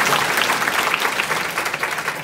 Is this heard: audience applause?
yes